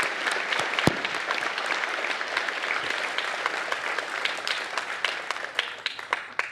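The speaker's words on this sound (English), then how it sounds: "they deserve our applause" Sustained audience applause at a university presidential inauguration ceremony, dense and fairly loud from a large crowd, with some sharp individual claps standing out near and far across the steady roar.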